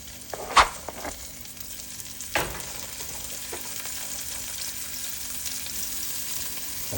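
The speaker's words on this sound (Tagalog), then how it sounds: "lalagyan natin ang ating bawang. Sunod natin guys ang sibuyas" Garlic and onion sautéing in a pan for a simple chop suey, a steady low sizzle with a couple of sharp utensil knocks early on, heard close with no talking.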